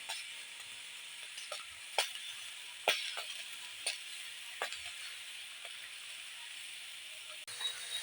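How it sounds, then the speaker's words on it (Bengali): Green chillies roast directly over a stove flame, giving a soft steady hiss broken by a series of sharp crackles and pops spread across the whole stretch, fairly quiet and with no talk. "এই লঙ্কাগুলো উনুনে ঝাঁঝে এখানটায় পুড়িয়ে নিচ্ছি।"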